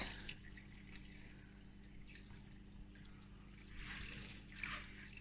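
Water pours and trickles over bones in a pot for bone broth, a quiet, continuous splashing that swells near the end, close but soft.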